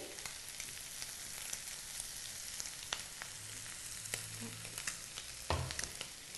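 Prawns fry in a pan with salt, chili and garam masala, giving a steady soft sizzle with scattered clicks and scraping as a spoon stirs them, close-up with no voice.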